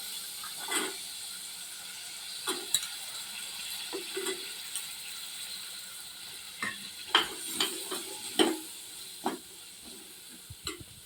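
Peas seasoned with garam masala are sautéed in a pan: a low hissing sizzle runs under irregular clinks and scrapes of a spoon stirring, close by and fairly quiet.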